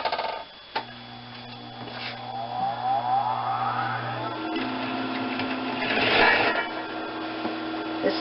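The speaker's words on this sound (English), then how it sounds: "This is an industrial machine, but a regular home sewing machine will work as well." An industrial sewing machine bastes a draw cord into the edge of a hood, a steady close mechanical whir with a rhythmic stitching patter and brief starts and stops.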